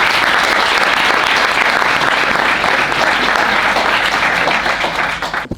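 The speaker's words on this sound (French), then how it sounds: "Merci beaucoup Fono, on peut applaudir." Loud, dense applause from an audience after a talk, a continuous roar of many hands clapping close by that stays strong before cutting off abruptly at the end.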